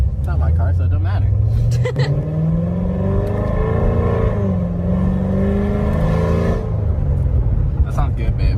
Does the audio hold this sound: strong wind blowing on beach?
no